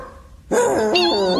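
A dog in an animated children's fairy tale gives a loud, close, whiny bark that rises abruptly out of quiet and stretches into a drawn-out yelping cry.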